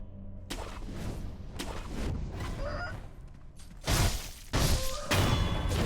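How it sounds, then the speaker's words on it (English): Chickens in the video game Sekiro making short squawking clucks amid game sound effects, with several sharp thuds and impacts breaking in over about six seconds. "Chicken."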